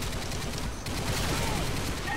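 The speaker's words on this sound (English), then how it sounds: "Put this thing to burst fire and you'll mow down everything in the game." Modern Warfare 2 gameplay with a steady, loud wash of rapid gunfire from a burst-fire weapon, shots running almost without pause under faint game noise.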